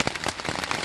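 Rain falling on a tent with a mosquito net and a sheet over the top, a brief burst of close pattering drops landing irregularly on the fabric.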